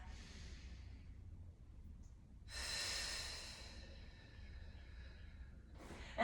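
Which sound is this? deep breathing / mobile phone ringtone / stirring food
deep breathing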